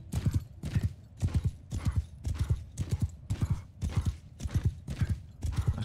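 Horse hooves galloping in the video game Mount and Blade 2 Bannerlord, a fast, steady rhythm of loud clip-clop beats, grouped in repeating bursts across the whole stretch.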